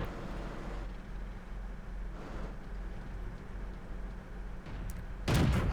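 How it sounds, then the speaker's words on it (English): In World of Tanks, a steady rumble of engine and battlefield noise runs throughout, then near the end a tank cannon fires once, a sudden loud, close blast. "I thought I saw a tank there, so I fire"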